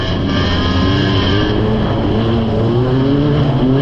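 Banger racing cars roar around a track up close, a loud continuous wall of engine noise with rising and falling revs and no talk over it.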